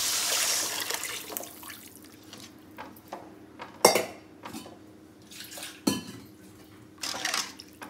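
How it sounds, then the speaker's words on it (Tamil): Tamarind gravy poured into a pan for a village-style fish curry, heard as intermittent liquid splashes and drips with sharp metallic clanks of the pan and utensils, close and alone. "இப்போ நம்ம கரைச்சி ரெடி பண்ணி வச்சுருக்க இந்த குழம்பை இதில் ஊற்றிடும்."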